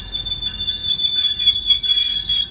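Train arriving at a station, a loud high steady wheel squeal held across the whole stretch over rushing, rumbling rail noise, close and continuous with no talking.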